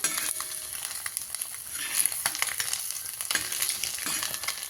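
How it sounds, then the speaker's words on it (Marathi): Egg curry masala being sautéed in a pan, with a steady sizzle and frying crackle under repeated scraping stir strokes, close and fairly loud, and no voices. "आपण आता झाकण काढलेलं आहे थोडंसं परतून घेऊया असं"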